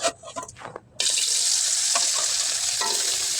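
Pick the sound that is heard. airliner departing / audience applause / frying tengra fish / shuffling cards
frying tengra fish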